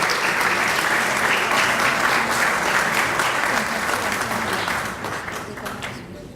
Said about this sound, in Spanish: Fuerte aplauso por esta distinción